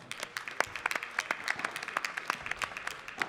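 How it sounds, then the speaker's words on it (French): Scattered clapping from a modest crowd at a padel tournament quarter-final as a player is introduced, fairly faint and uneven, with individual claps standing out over the short burst. "Sous vos applaudissements."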